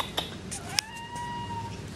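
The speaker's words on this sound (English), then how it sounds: "My kitty wants to play here." A pet cat meows close by, one drawn-out plaintive call that rises and then trails off, following a couple of quieter sounds at the start.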